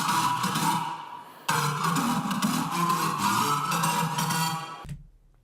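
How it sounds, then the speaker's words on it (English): A Serum software synth using oscillator sync plays a bright, buzzy, harmonically rich lead, loud and unbroken with a sharp cut partway through, then stops abruptly near the end. "a very cool function in Serum that I use is the sync function on synths, and it sounds like this"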